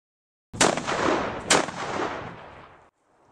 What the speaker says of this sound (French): Encore faut-il passer le tir de barrage.